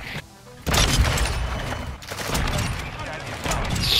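Gunfire from a video game shooter comes in loud bursts of rapid shots with brief pauses between, close and harsh, with a player talking over the action.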